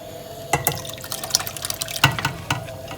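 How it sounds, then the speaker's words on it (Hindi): Washed urad dal without skins pours into boiling water in a cooking pot, a run of splashy drips and small liquid plops, sparse and close, over a faint background hiss with no talk. "मैं इसमें अभी से दाल डाल देता हूँ।"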